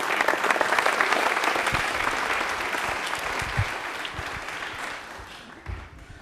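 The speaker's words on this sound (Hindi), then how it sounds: "किशन के लिए तालियां एक बार जोरदार प्लीज।" Studio audience applause on a Rajasthani general-knowledge quiz show, loud sustained clapping from many hands that gradually tapers off, with a few stray claps near the end.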